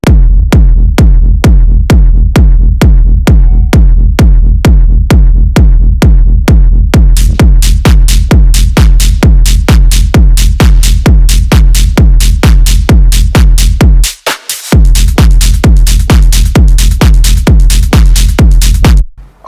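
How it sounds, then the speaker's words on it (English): Punchy electronic kick drum locked with a deep bass line in a club track, a steady four-on-the-floor thump that runs loud and unbroken, dropping out briefly near the end before slamming back in. "So kick and bass together sounds like this."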